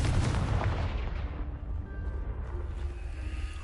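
A fiery blast from the Confringo spell in a video game: a loud booming burst up front that rolls into a decaying rumble, with no talking.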